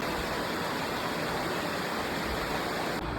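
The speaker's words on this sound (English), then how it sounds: "it starts off with a waterfall right next to the parking lot" Steady, dense rushing water fills the clip from start to finish, a close waterfall roar on Goforth Creek in Tennessee, with no voices or other sounds on top.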